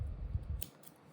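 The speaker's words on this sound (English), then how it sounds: "cut the yarn" Scissors cut through crochet yarn: one quick, close snip after a brief rustle of handling, followed by near silence.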